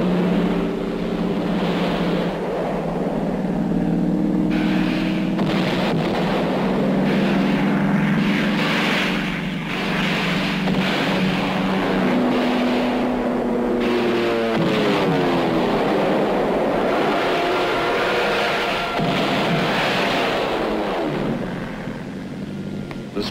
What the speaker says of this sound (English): these planes are now ranging far and wide over North Korean territory